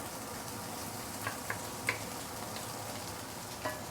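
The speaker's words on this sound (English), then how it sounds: "You must char your prawn shell until it is very fragrant." Prawn shells charring in a hot pan give a steady, moderately loud sizzle with a few faint pops and scrapes, close up with no voices.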